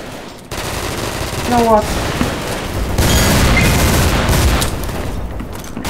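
Video game gunfire, dense rapid automatic bursts blending into continuous loud shooting throughout, with a player speaking briefly over it.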